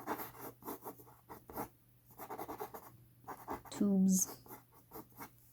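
Pencil sketching a horse on paper, rapid scratchy strokes in repeated bursts close to the mic, with a voice briefly speaking among them.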